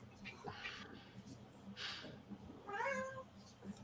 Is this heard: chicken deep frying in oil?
no